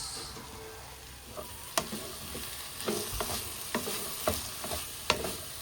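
Cabbage cooks in a pan with a soft sizzle and scattered clicks from stirring, faint and close, no voices.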